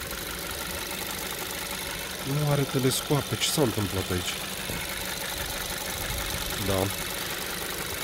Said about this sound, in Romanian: Ia să-i auzim și motorașul.